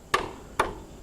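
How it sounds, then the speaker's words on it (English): Metal sign holder being tapped on a flat surface to bend it to an angle: three sharp, close metallic taps spaced about half a second apart, each ringing briefly. "tapping away"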